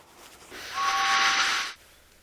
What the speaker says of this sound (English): he heard James's whistle echoing through the countryside.